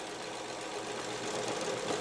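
Sewing machine stitching a pansy pattern in thread play, running out onto the background fabric, gives a steady, continuous motor hum with even, unbroken mechanical buzz throughout.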